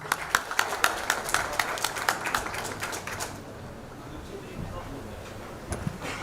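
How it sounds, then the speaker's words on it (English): A crowd claps briskly for a few seconds, then the applause fades out into quiet room noise with a few scattered claps. "Please with a big round of applause."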